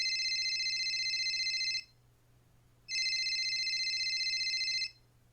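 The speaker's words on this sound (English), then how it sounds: "The next morning, they were awoken by Serenity's phone ringing." A mobile phone rings in two long electronic bursts separated by a brief pause, clear and steady against a quiet room with a low hum.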